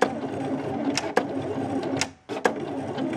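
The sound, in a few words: Silhouette Cameo cutting machine cutting a cardstock snowflake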